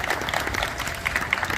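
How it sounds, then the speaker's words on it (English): Applause from an audience at a steelpan music festival, dense clapping that holds steady throughout at moderate loudness. "Let's give him a round of applause"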